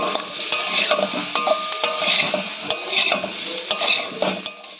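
Small new-season potatoes frying in a pan with salt and turmeric, stirred steadily with a metal spoon that clinks and scrapes against the pan in a repeating rhythm over a soft, continuous sizzle.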